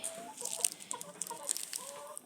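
Chickens clucking nearby in short, irregular bursts at a chicken-cutting spot in Ghandruk, Nepal, several birds overlapping with sharp high calls, no talking.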